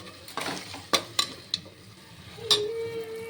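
A spoon scrapes and clinks against a pan while milk, curd and fried ingredients are stirred together for ghee rice, with several sharp metallic taps over a soft sizzling background.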